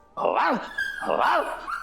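A man vocally imitating a dog's bark, giving two drawn-out, rising-and-falling woofs close to the listener, separated by a short gap.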